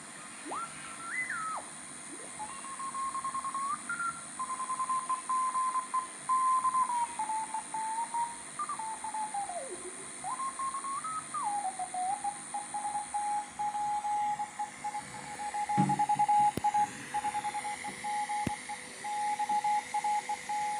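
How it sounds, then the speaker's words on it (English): A ham radio tuned across the 40-meter band through a homebrew magnetic loop antenna gives faint hiss and warbling whistles, beeps and tones that slide up and down as the dial moves, with no speech heard. "The radio is hooked up to a homebrew mag loop antenna tuned to the 40-meter band."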